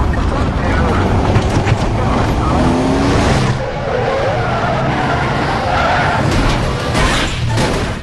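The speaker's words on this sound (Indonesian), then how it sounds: "dia mengalami kecelakaan di atas jembatan hingga mobilnya terguling beberapa kali." A car crashes and rolls over several times on a bridge in an action film, with dense continuous skidding, scraping and impact noise filling the scene under a layer of voices.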